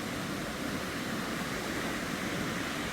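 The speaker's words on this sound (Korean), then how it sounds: "물이 차고 파도가 계속 와서 수영은 좀 어려울 수 있지만" Ocean waves wash onto a shallow beach at Andrew Molera State Park in Big Sur, a dense, steady roar of surf with no voices.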